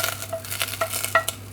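Butter slowly melting in a pan for a white sauce, with soft stirring scrapes and light clinks of a utensil against the pan, close and fairly quiet with no voices.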